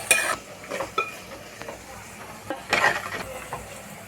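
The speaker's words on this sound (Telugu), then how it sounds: "అల్లం వేసాక మనకి కలుపుతూనే ఉండాలి, ఎందుకంటే మాడిపోతుంది కదా." Onions and ginger paste fry in oil in a pan while being stirred, giving a steady soft sizzle broken by scraping stirs and a few brief clinks of a utensil, close and moderately quiet with no talking.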